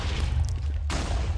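Cannon fire in a Minecraft match on the Bamboo Valley map: a dense, continuous rumbling barrage of booms, loud and sustained, with a brief dip before another burst of blasts.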